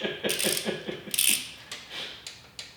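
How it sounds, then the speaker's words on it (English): An old inch-pound torque wrench ratchets in quick bursts of close, crisp clicks while a Mustang 4.6L 3V short block is assembled, with brief pauses between runs. "I think this inch-pound wrench is older than me."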